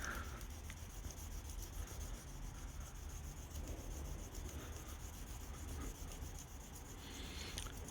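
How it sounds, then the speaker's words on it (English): Wet and dry sandpaper rubbing across a scuffed alloy wheel to flatten kerb rash at home, a faint, steady abrasive scratching that continues without pause, with no talking. "I'm actually hoping that we might be able to just rub this flat with the right bit of wet and dry"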